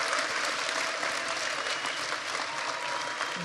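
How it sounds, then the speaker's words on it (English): Steady, dense applause from an audience at a sports awards ceremony honouring Bo Jackson, continuous and fairly loud throughout with a faint murmur of crowd underneath. "How about a round of applause for the great Bo Jackson?"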